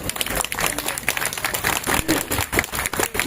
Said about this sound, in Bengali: সবাইকে বলবো একটা জোরে হাততালি